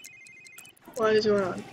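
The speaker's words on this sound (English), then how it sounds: "Answer cell phone." A cell phone ringtone in The Sims 3 video game plays as a short, bright electronic tone, then cuts out as a voice starts talking.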